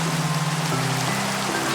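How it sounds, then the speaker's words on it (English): Steady rain falls on a surface in a continuous, even patter, with a low hum running beneath it and no talking throughout. "I would like to sleep so I can get this rain out of my ears"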